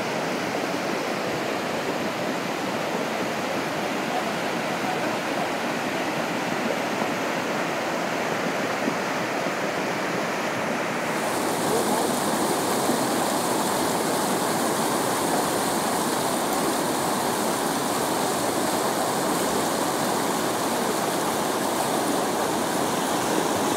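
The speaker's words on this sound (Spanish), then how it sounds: "El día de hoy sábado están viendo la crecida de lo que es el río." The swollen Taniluyá river in Chimaltenango roars past in flood, a loud, unbroken rush of churning water that carries on steadily with no voices.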